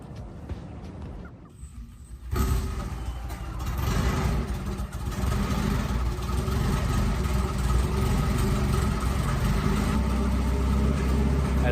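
An abandoned Honda Civic turbo engine fires up and settles into a steady, close idle with a rough, continuous rumble, preceded by a brief quieter moment before it catches.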